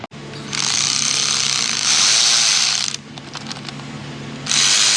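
Power tool spins an 8mm socket on fasteners of a Jeep Wrangler 3.6 Pentastar intake manifold, two loud sustained whirring, rattling bursts separated by a brief pause, close up.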